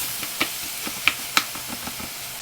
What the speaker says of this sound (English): It's sizzling. You always have to be careful with that part. It sizzles everywhere.